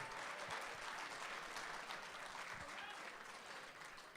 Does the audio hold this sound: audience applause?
yes